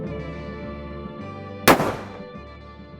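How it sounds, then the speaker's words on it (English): A single loud, sharp revolver shot fired by fanning the hammer cracks out close by, then fades into a short decaying echo over a low steady hum, with no voices. "You fan the hammer back, let go, and the bullet comes out."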